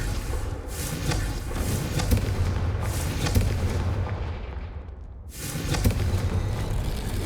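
A Confringo spell explosion from the Hogwarts Legacy video game, a loud booming blast with rumbling spread that fades into a brief lull before another heavy burst erupts, dense and close throughout.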